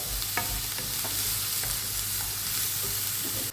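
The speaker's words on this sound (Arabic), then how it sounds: "نخليه يتقلى قيس 5 دقائق" Food fries in a pan with a dense, steady sizzle and occasional stirring clicks, close and continuous, ending abruptly.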